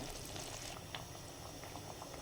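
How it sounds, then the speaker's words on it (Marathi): Gentle, steady bubbling of thick shev bhaji gravy simmering in a pot, soft and continuous with faint pops, no voices. "हे छान उकळत आहे"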